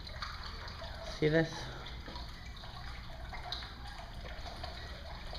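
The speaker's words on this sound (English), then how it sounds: "you walk into this enclosure that has running water, and I believe there's turtles here too." Running water in a turtle enclosure at a nature center, a faint, steady trickling hiss throughout, with a brief spoken remark near the start.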